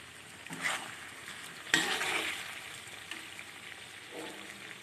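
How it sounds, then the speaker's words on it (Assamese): Greens and tomatoes fry in a pan, giving a soft, continuous sizzle broken by a few louder scraping stirs, close by with no talking. "এতিয়া অলপ শাকখিনি ভাজি লোৱাৰ পাছত ইয়াতে দুটা বিলাহী কাটি দিছোঁ।"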